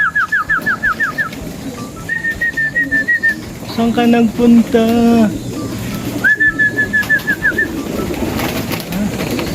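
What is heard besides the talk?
pigeon cooing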